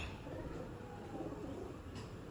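A pigeon held in the hand gives faint, low, throaty coos against quiet background noise.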